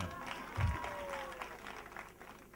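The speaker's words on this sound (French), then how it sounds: "Vous devez vous applaudir vous-même" Faint applause from an audience at a prayer vigil, a soft spread of clapping that stays low and distant beneath a speaking voice for the whole stretch.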